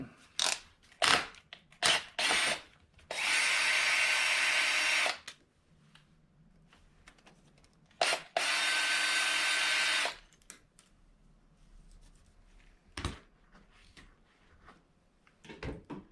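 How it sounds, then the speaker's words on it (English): A motorcycle clutch lever's two Phillips head screws are backed out with a power driver, heard as two sustained whirring bursts among close clicks and handling taps in a quiet garage, 1996 Kawasaki KLR 650. "on the clutch lever, all we have is two Phillips head screws right here facing this way. Just gonna pop those out real quick."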